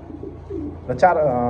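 A pigeon at a market sale in Bangladesh lets out a single short, throaty coo near the end of a brief, close stretch of low murmuring.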